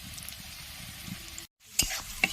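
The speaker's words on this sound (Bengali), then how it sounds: "পেঁয়াজগুলো কিন্তু তাড়াতাড়ি সিদ্ধ হয়ে যাবে। একদম লাল করে ভেজে নেবে।" Onions frying in a pan for a fish roe curry: a steady, close crackling sizzle that cuts out briefly, then returns with a couple of sharp clinks from stirring. No voices.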